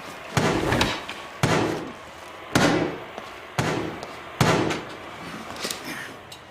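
Several hard knocks on a door in loose pairs and singles, fairly loud and close, with nobody speaking.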